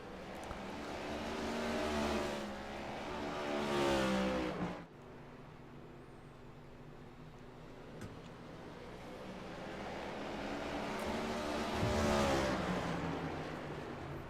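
Race cars roar around North Wilkesboro Speedway during a BNR Cup Series race, engines swelling loudly as packs pass near, fading to a distant drone mid-clip before another loud wave builds and passes again.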